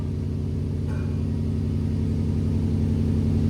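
A 2015-2021 Subaru WRX STI with a 2.5L turbo engine and aftermarket exhaust idles steadily, giving a deep, even, rumbling burble that holds constant and close throughout with no revving.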